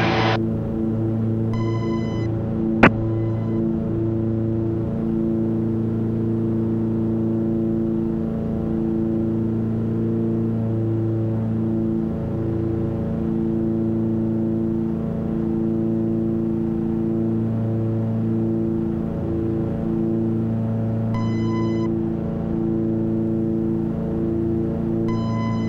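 A steady, loud light-aircraft engine drones through a takeoff climb on a ferry flight, with a sustained even hum and a few brief tonal beeps; no gear-retraction noise stands out.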